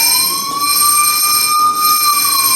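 A siren wails steadily outside and holds a loud, sustained tone throughout, with a faint rumble of traffic beneath it and no talking.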